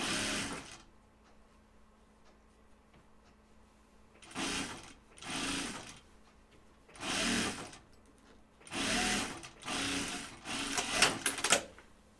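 Sewing machine stitching through several layers of fabric while sewing a reversible Wallaby garment, in bursts: four distinct runs of whirring stitches separated by short pauses, with quiet room tone before the first.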